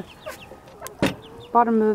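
A backyard homestead hen gives short clucks and soft calls, a few brief notes followed by a louder, drawn-out tonal cluck close to the listener, with a person talking faintly nearby.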